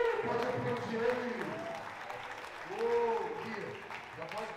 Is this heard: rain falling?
no